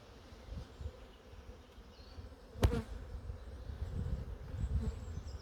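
Honey bees buzz steadily around an open brood box in an outdoor hive, a dense low hum throughout with one sharp broadband knock partway through.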